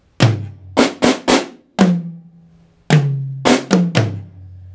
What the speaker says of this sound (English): and we're going to play snare, high tom, floor tom.